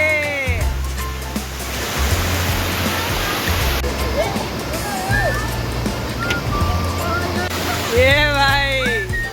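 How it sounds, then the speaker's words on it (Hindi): Waterfall at Windam Falls rushing in a steady, loud broadband roar that runs through the whole clip, with people talking and shouting over the falling water. "खतरनाक चल रही है नहाना झरने में, विंडम फॉल में।"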